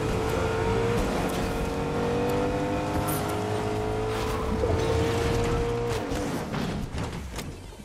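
A vehicle engine in the Fortnite game drones and revs, with tire squeals and skidding layered over a continuous, fairly loud motor whine that fades slightly at the end.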